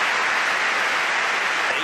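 Sustained applause from a large crowd in a packed table tennis arena at a world championship match, a dense steady wash of clapping filling the hall without pause.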